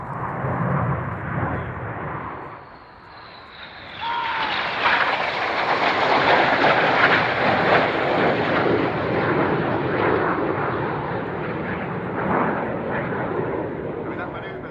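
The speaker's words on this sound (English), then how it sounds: "the aircraft just 100 feet above us right on there on the left is to fly a predictable 6G bend here" A Red Arrows display jet at the Fairford airshow sweeps low overhead, its roar dipping briefly before surging back into a loud, sustained jet blast with a falling whine, while voices talk faintly underneath.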